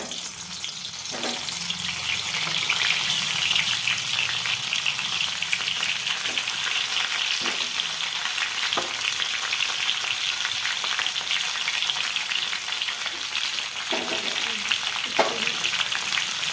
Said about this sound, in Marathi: आपलं तेल तापलं आहे आणि यामध्ये मी एक एक वांग आता असं सोडून देते